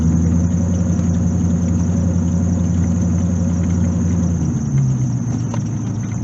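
A C4 Corvette with a fault affecting acceleration and speedometer runs while being driven home, a steady low engine rumble and drone that shifts slightly in pitch near the end, close and continuous with no talk.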